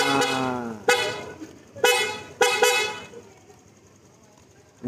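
A Honda Click 150 motorcycle horn, freshly rewired, beeps three short times in quick succession after a brief opening tone, loud and close, with quiet pauses between.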